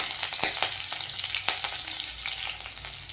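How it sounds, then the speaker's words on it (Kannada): Cumin seeds and green chillies frying in hot oil, a bright continuous sizzle with sharp crackling pops and spattering spread across the few seconds, close and alone. "ಎಣ್ಣೆ ಕಾದ್ಮೇಲೆ ಜೀರಿಗೆ ಹಾಕ್ಕೋಬೇಕು, ಹಸಿಮೆಣಸಿನಕಾಯಿ"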